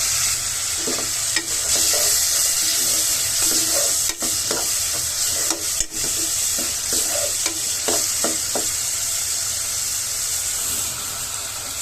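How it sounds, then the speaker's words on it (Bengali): A spice paste of cumin and garam masala powders sautés with a little water in a pan for spicy chicken heart curry, giving a constant loud sizzle and hiss with repeated scraping stirs. "এখন সামান্য একটু পানি দিয়ে আমি মশলাটা খুব ভালোভাবে কষিয়ে নেব।"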